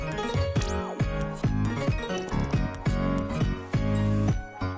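Dense electronic mix with sub bass, picked bass, twinkly high piano and super saws, bright and driving with repeated pulsing bass hits under sparkling upper notes.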